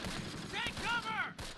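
Gunfire crackles in the Close Combat World War II strategy game, St Barthelemy battle of August 1944, short bursts and distant shots over a busy battlefield bed with whistling arcs, lasting under two seconds.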